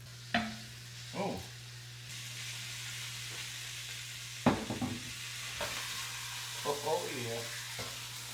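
A smash burger patty sizzles in its own fat on a hot griddle, a steady frying hiss with a low hum underneath and occasional spatula scrapes, while someone speaks briefly.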